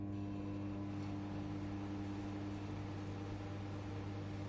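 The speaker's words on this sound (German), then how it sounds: "Ich dachte gerade, das hört sich an wie eine Mikrowelle." A steady, microwave-like electrical hum from the scanning machine in Airport X-Ray Simulator, a faint, even drone with no breaks and no talking.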